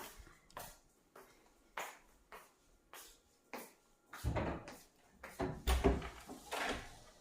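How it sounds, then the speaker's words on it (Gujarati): A series of sharp knocks and clatters as a gate door is opened repeats irregularly and grows louder toward the end. "ગેટનો અવાજ આવે છે દરવાજો ખોલીએ"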